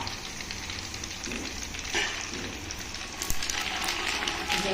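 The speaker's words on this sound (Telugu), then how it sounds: "ఒక గుప్పెడు ఆవాలు ఒక గుప్పెడు ఎండుమిర్చి వీటిని దోరగా వేగనిద్దాం" A handful of mustard seeds and dried red chillies fry in a large pan of about two and a half kilos of oil as tempering for gongura pickle. The result is a steady close sizzle with scattered pops and spits.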